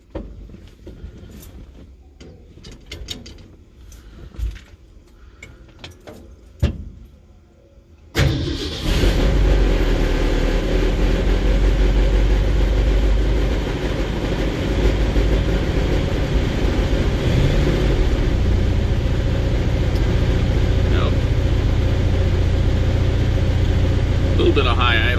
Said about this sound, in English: Turn on the old fuel pump and give her a second.